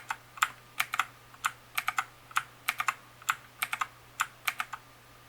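Keys clack on a Motospeed CK104 mechanical gaming keyboard in quick irregular bursts of crisp clicks, steady and close against a low electrical hum.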